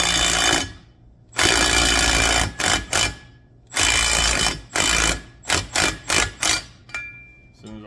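Impact wrench tightening a ball joint on the Dana 30 front axle of a Jeep Comanche, firing in several loud bursts, with a long burst, a few shorter ones and a string of quick rapid blips.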